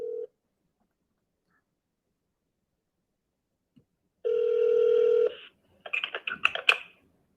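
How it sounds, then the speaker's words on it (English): Telephone dialing: a short tone, a pause, then a sustained ringback tone of about a second followed by a rapid burst of keypad beeps, clear and close in an otherwise silent space. "Let's see if he answers the phone."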